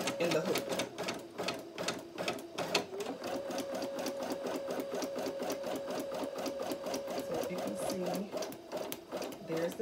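A Brother PE800 embroidery machine sews a basting stitch around the hoop, giving a steady, rapid mechanical clatter with a faint whine throughout, fairly close.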